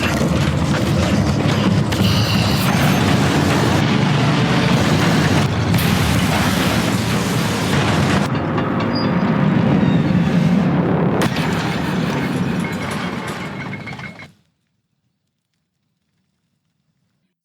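An improvised bomb goes off as a tank breaks through a barricade, with loud, dense booming blasts and grinding mechanical rumble that continue for about fourteen seconds before cutting to sudden silence.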